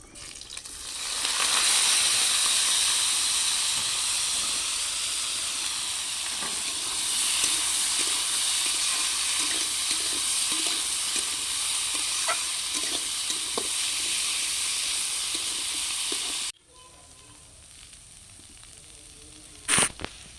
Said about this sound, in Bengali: এইভাবেই প্রথমে আগে ভালো করে ভাজা ভাজা করে নিতে হবে